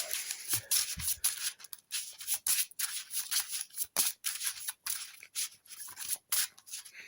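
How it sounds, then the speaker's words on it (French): The Automa card deck of the Ascension Tactics board game is shuffled by hand, giving rapid, close rubbing and riffling swishes in irregular bursts separated by brief pauses. "Deck Automa. On va le mélanger une dernière fois."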